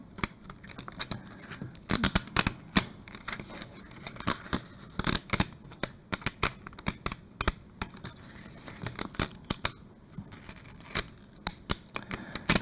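Cut vinyl being weeded on a Cricut project, dense crackly peeling and tearing sounds in quick irregular bursts, close and steady throughout with no voices.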